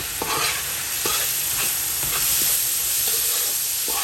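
Washed basmati rice stirred and fried in a pan for lamb biryani, giving a steady close sizzle with repeated scraping strokes of a spoon at a regular rhythm and no voices.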